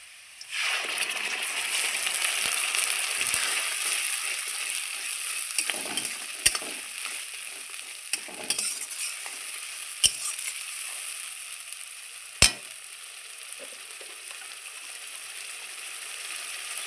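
Ground spice paste sizzles loudly on contact with fried onions in a hot pan, a steady crackling fry broken by a few sharp clicks of a spoon stirring against the pan.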